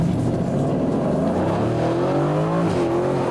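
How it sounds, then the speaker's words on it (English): Aston Martin Vantage V8 engine accelerating hard under full throttle, heard from inside the car with a window down: a loud, continuous rising roar with climbing harmonics, briefly dipping near the end before climbing again. "It has to explode when I floor the gas pedal."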